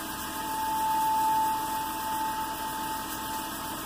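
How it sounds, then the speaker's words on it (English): A wood lathe spins at a steady speed during friction polishing, a close, continuous motor hum with a faint high whine that swells slightly and then holds even, with no talking. "Then you just turn on the lathe."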